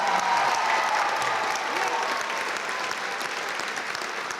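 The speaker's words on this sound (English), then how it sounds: "How about one more round of applause for all of our staff recognized tonight?" An audience at a school district staff recognition night applauds in a sustained, even wash of clapping that holds steady and fades slightly toward the end.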